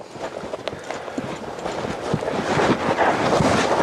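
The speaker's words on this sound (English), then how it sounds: "So now I want her to lope." A mare loping under saddle, her hoofbeats thudding in a steady rolling rhythm amid strong wind buffeting the microphone, growing louder toward the end.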